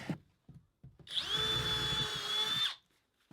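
A cheap Harbor Freight cordless drill with an inexpensive bit spins up and bores into wood for about a second and a half, a high steady whine with motor hum, stopping abruptly between quiet handling knocks.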